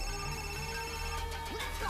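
A telephone rings in a scene from a Hindi-dubbed film, its steady electronic tone running unbroken for about two seconds with no one speaking over it.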